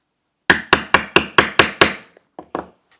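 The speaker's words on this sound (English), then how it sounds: "I'm going to hammer these in." Hammering rivets in a craft workshop: seven sharp, evenly spaced metallic blows in quick succession, then a short pause and two lighter taps, close and loud with nothing else underneath.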